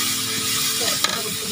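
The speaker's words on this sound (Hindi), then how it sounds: "इसको अच्छे से हम भून लेंगे।" Red chilli powder sizzles steadily as it is roasted in a jackfruit curry, a loud continuous frying hiss with one brief clink partway through.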